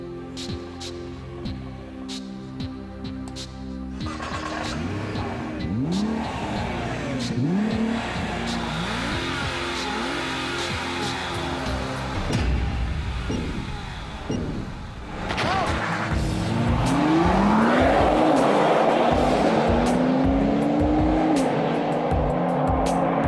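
A Nissan GTR and a Porsche Turbo launch in a drag race at the Nordschleife, engines revving hard through repeated gear changes with tire squeal and rising, loud acceleration, heard from inside over a long run.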